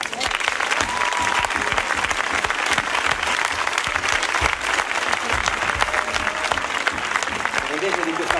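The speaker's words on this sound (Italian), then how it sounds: "Prendete di questo applauso, poi" Loud, steady applause from a live audience fills the room at a youth musical performance by a music academy, continuous clapping throughout with voices faintly mixed in.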